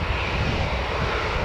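Jet aircraft engine roaring steadily at Newcastle Airport, a continuous broadband rumble with a strong low-frequency drone that holds at even loudness throughout, with no voices.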